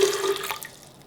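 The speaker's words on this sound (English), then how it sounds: "Add 1 cup of water," Water from a measuring cup poured into a blender holding ingredients for a smoked paprika vegan cheese: a brief, close splashing gush that fades quickly into quiet dripping.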